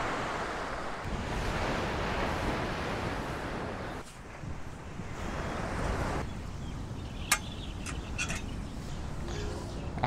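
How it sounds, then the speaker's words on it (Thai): Sea waves wash onto a beach at Hat Wanakorn National Park in Thap Sakae on a calm, nearly windless day, a steady broadband roar of surf with a brief dip midway and a few faint bird chirps near the end. "ไม่ค่อยมีลมนะครับแต่ว่ามีคลื่นซะงั้นเลย"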